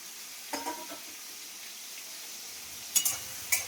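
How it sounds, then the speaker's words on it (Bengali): Shrimp fry in hot oil with a faint, steady sizzle, broken by a few sharper crackling pops early on and again near the end. "চিংড়ি মাছগুলো আমি একটু ভালো করে ভেজে নিই, লাল লাল করে চিংড়ি মাছগুলো ভেজে নিই"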